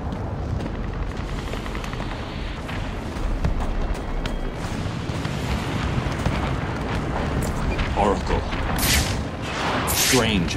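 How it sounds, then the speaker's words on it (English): Missile strikes pound Arkham City in the Batman: Arkham City video game, making a steady, dense roar of booming blasts and rumble that swells toward the end, with sharp bursts layered on top. "Strange is launching missile strikes on Arkham City from Wonder Tower"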